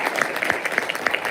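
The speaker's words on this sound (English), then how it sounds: "Let's give them a round of applause before we jump in there." People in the audience applaud at a tech-talk briefing. The clapping is fairly soft and slightly uneven, with individual claps standing out throughout the short burst.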